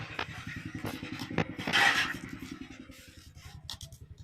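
Ginger with fresh green chilies and dried red chilies ground together into a spice paste, a steady rhythmic grinding with repeated low thuds and scraping, close and fairly loud, with a brief harsher burst partway through.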